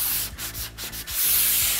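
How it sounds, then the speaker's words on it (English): A sanding sponge rubs back and forth over a painted wood finish to distress it, giving several rhythmic scratchy strokes up close, with no one talking. "we're gonna take our sanding sponge and you're gonna go right over it."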